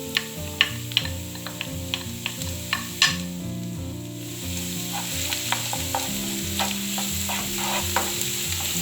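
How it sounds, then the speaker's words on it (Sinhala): Ginger and garlic frying in a pan, a steady close sizzle with sharp clicks of a utensil stirring and scraping now and then, clear and alone with no talking. "මේ විතර ඉඟුරු සුදු ලුණු ටිකක් පොඩ්ඩක් ෆ්‍රයි කරනවා"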